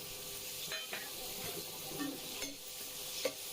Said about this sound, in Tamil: ஸோ கொஞ்சம் நேரம் வதங்கட்டும்.